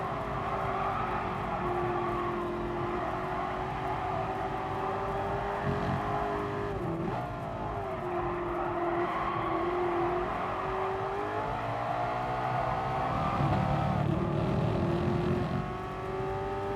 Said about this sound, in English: We're going to have to drift it to hold the speed.